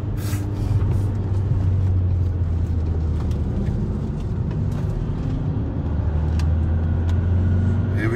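A van lapping the Nuremberg racetrack among supercars, its engine giving a steady, close road drone with low rumble and brief sharper noises, no talk.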